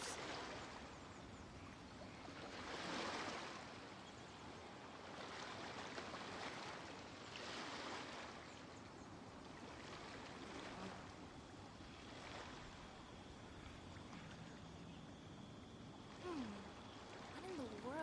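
Ocean waves wash in and draw back in slow, even swells in the game Genshin Impact, a soft continuous surf with a faint breath of wind.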